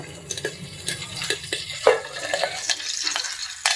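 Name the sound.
curry leaves spluttering in hot oil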